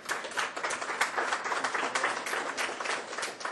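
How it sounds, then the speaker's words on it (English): An audience at the close of a training class breaks into steady, dense applause that fills the whole stretch at moderate volume, with no voices over it. "Applause for Jason"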